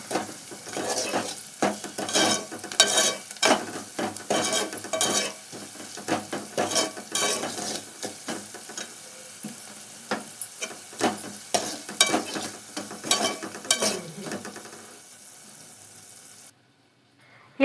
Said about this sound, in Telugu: ఈ విధంగా ఉల్లిపాయలు మగ్గిన తర్వాత ఒక టేబుల్ స్పూన్ ఉప్పుని అయితే వేసుకుని దీంట్లో మంచిగా కలుపుకొని ఫ్రై